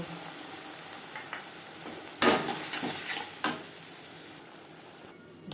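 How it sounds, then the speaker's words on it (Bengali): Fish head frying in a pan with onion, tomato, ginger and green chilli paste, salt, turmeric, cumin and coriander powder: a steady sizzle with a few louder bursts and stirring scrapes midway, no talking. "মাথাটাও ভেজে নেব। দিয়ে দেব পেঁয়াজ, টমেটো, আদা ও কাঁচা লঙ্কা বাটা, লবণ, হলুদ, জিরে ও ধনের গুঁড়ো।"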